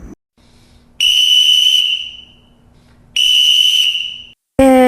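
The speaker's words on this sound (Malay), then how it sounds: "Itu adalah bunyi pengadil sedang meniup wisil." Two long, shrill blasts of a referee's whistle, each lasting about a second, separated by a pause, followed by a short warbling trill at the end.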